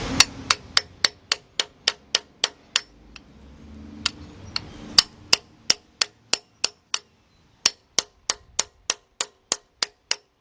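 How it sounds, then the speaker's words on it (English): Sharp metallic hammer blows drive a freeze plug into a 1999 Dodge Dakota 3.9 engine block through a socket, a steady run of evenly spaced strikes with a short pause in the middle, close and loud with no talking. "You want to take your socket, put it in there, and then you want to hit it evenly."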